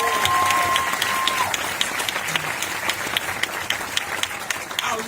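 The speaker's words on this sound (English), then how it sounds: "can you please give a round of applause to all my classmates who weren't able to stand up?" An audience at a foundation's annual event during a film festival applauds in a steady, dense round of clapping, with a few voices faintly mixed in.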